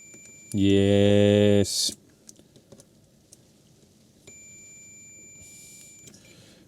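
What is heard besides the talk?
multimeter continuity test beeping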